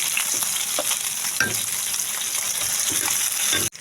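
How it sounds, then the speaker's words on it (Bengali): Fish sizzling and hissing in hot oil in a pan, with a steady frying crackle throughout and a few scraping, clattering knocks as the pieces are turned over. "বন্ধুরা, মাছগুলো এখন আমি উল্টে দিব।"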